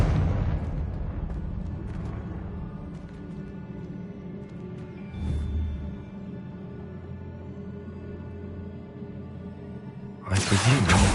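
A Confringo fire spell bursts in the Hogwarts Legacy video game: a loud booming blast at the start that rumbles and fades, a second thud midway, then another sharp burst near the end, with no talk.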